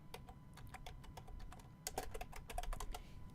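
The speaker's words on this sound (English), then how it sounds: "I can't even type on the keys." Fingers tap out a quick, irregular patter of clicks on a computer keyboard, close and fairly quiet against a low room hum, the keystrokes growing a bit louder and denser in the second half.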